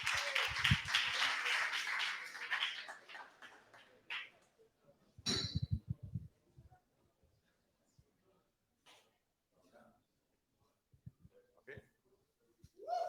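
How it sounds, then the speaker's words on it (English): Audience applause at a coding bootcamp demo day in Lisbon, a short burst of clapping at the start that quickly fades, followed by sparse claps, room noise and brief voices. "So welcome them. Round of applause."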